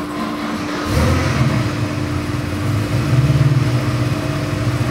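A 392ci Gen III Hemi stroker crate engine idles on a dyno, a steady, loud, lumpy rumble that picks up a little after the first second and holds an even throbbing rhythm without talk.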